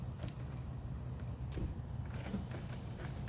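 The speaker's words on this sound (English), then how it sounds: "the only way I can unlock and lock the car is by doing this" Car keys jangle quietly as a non-original key is worked to unlock and lock a car, with a soft low rumble underneath and a few small clicks and rattles.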